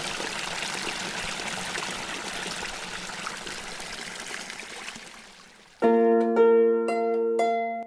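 Clear, very cold mountain stream in Dolen, Bulgaria, flowing with a steady close rushing trickle that fills the first five seconds before fading, after which unrelated tonal sounds take over.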